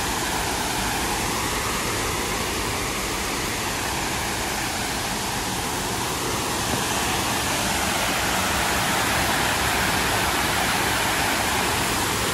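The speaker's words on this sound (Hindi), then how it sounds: "मिस्र धारा पोल से कुछ दूर चलते ही हमें बहुत ही सुंदर झरना यहाँ पर दिखाई दिया है।" Waterfall near Misra Dhara Pol at Ranthambore Fort, India: a continuous, loud roar of falling water, an even hiss and rumble that stays unbroken throughout with no voices over it.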